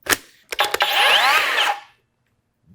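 Skilsaw cordless worm drive circular saw, battery-powered, cutting through wood: a loud, close whine of a few seconds after short spin-up bursts, ending abruptly as the electric brake stops the blade, then silence.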